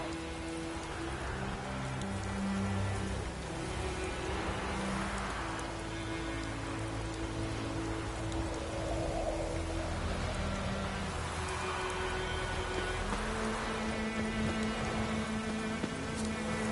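Steady heavy rain in The Witcher 3: Wild Hunt pours down continuously, a dense hiss of drops drumming on surfaces with a low rumble underneath, loud and unbroken throughout.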